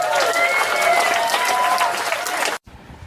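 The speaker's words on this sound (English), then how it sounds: "So let's have a big round of applause for all you," Applause and cheering for the competitors at the Cowes–Torquay powerboat race prize giving. A dense crowd claps steadily and loudly for about two and a half seconds, then the sound cuts off abruptly, leaving a quiet room.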